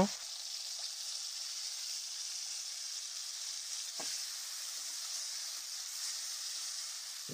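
Yardlong beans frying in a pan with a spice mixture make a soft, continuous sizzle, with a few faint knocks of a utensil.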